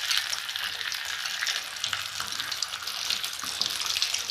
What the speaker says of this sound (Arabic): تعالوا ننزل في الزيت